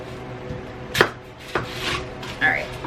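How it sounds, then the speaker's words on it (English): An onion being chopped with a kitchen knife while making lentil soup: three or four separate, sharp knife strikes against a board, close and fairly loud, spaced unevenly over a quiet kitchen background. "this is how I chop onion"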